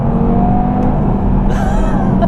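Audi TT RS engine revving hard under acceleration, a loud steady low rumble with a rising harsher tone toward the end, heard from inside the car without talk.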